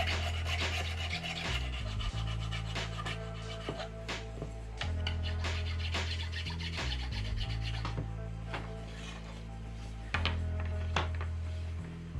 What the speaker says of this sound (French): L'étape suivante consiste à mastiquer les impressions 3D et à les poncer pour faire disparaître les stries d'impression.